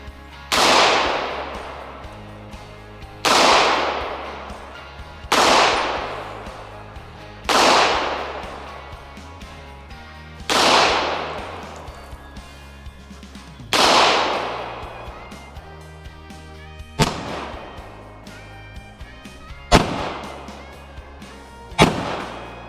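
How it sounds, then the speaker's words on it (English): A Beretta M9 9mm pistol fires 115 grain jacketed hollow points in about nine loud, sharp reports spaced a few seconds apart, each with a long echoing decay that fades between shots, with no talk. "next up, Beretta M9. And these are loaded up with 115 grain jacketed hollow points"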